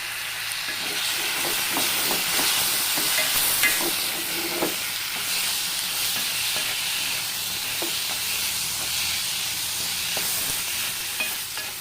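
Tomatoes sizzle and fry in a pan for kadai paneer while being stirred, a loud continuous hiss with occasional scraping strokes, close up and without speech.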